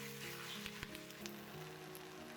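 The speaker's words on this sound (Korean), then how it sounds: "미역을 중불에 볶아주어요" Seaweed stir-fried over medium heat in perilla oil in a pot, giving a soft continuous sizzle with faint crackles, quiet and close, with no talking.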